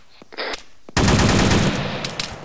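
Rapid automatic gunfire in ArmA 3, a few scattered shots followed by a loud, sustained burst of fire that fades slightly at the end.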